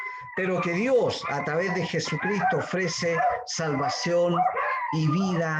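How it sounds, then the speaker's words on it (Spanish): Dogs barking outside a house, several loud yips and barks cutting in close under a man's steady Spanish speech. "Ya si se escuchan ahí unos perros ladrando, esos de afuera de la casa"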